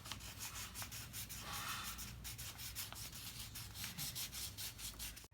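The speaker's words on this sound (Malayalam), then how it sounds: "ഇനി നമുക്ക് ഈ ഹാർട്ട് ഷേപ്പിലോട്ട് കളർ കൊടുക്കാം." Colour rubbed onto a paper heart shape cut for a greeting card, a soft, close scratchy rubbing in quick repeated strokes, quiet and continuous.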